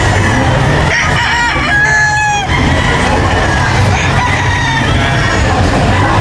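Several game fowl roosters crow repeatedly at a game fowl expo, loud and close, with overlapping crows and clucking over a constant busy crowd din.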